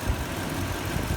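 A 2008 Toyota Sequoia Platinum 4x4 engine idling, a low steady rumble heard close up in the engine bay, smooth and even with no voices.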